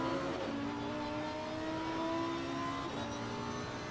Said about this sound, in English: Up to fourth gear. Climbing up the revs.